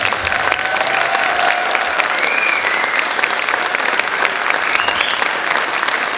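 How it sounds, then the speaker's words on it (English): Sustained audience applause at a high school spring concert, a dense steady patter of many hands filling the hall with faint whoops or cheers rising over it. "Let's give them all one more round of applause."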